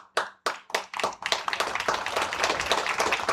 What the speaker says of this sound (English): We all should clap on that.